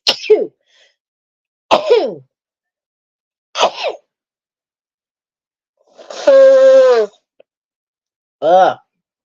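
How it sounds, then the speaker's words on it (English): Several loud sneezes come close up, spaced a couple of seconds apart, with a longer drawn-out vocal burst among them and silence between. "I'm gonna sneeze."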